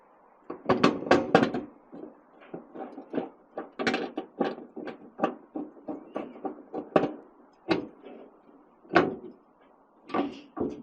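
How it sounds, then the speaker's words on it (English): A wood-fired pizza oven door from a YITAHOME oven is fitted on, with a long series of sharp knocks, clunks and rattles as it is angled in and clipped shut, close and fairly loud with gaps between bursts. "it kind of clips in at an angle and then closes like that"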